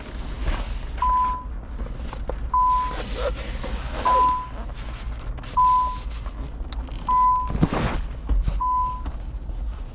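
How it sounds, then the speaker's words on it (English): A 1993 Nissan 300ZX sounds its door-open warning chime while the door hangs open, a clear repeating beep tone at steady intervals of about one and a half seconds, heard over handling noises and faint background rumble. "it's beeping because I got this door open."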